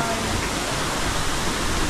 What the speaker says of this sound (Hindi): ऊपर से पानी गिरते रहता है झरने से